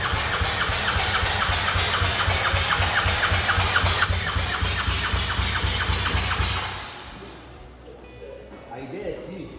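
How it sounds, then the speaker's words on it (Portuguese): A BMW R1200GS motorcycle with an Akrapovic exhaust cranks and starts on a dyno with the throttle held wide open. A loud, rapid mechanical churning runs for several seconds before it drops away to quieter noise, with a voice speaking nearby. "acelera a moto inteira e dá partida nela"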